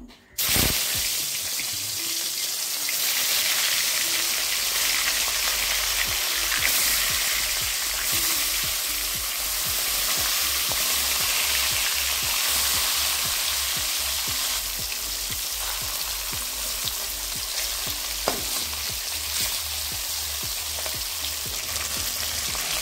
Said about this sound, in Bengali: তেলটা গরম হয়ে গেছে, এবার মাছগুলোকে দিয়ে দেবো।